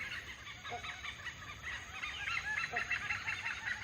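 Oriental pied hornbills give repeated nasal, honking calls in a forest canopy in Thailand, several overlapping cries at moderate distance with no talk.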